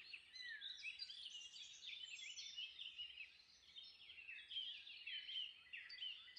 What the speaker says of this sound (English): But the one that I'm trying to highlight is a song thrush.